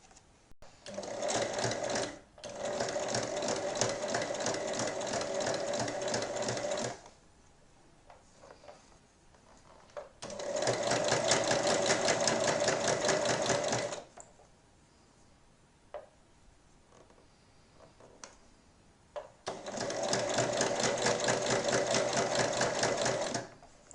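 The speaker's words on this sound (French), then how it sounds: "Et maintenant je vais venir coudre tout le long à 1 mm." A sewing machine stitches fabric for a bread basket along a 1 mm seam, running in three long steady bursts separated by quiet pauses, loud and close with no talk.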